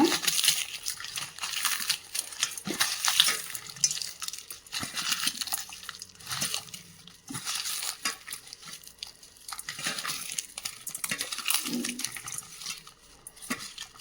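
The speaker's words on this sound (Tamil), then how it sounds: "இந்த மிளகாயை இந்த மாதிரி நல்லா பொரிச்சு விட்டுக்கோங்க" Red chilies fry in oil with a hissing, crackling sizzle. Soft stirring and scraping in the pan come up close and continuously, and brief clinks sound throughout.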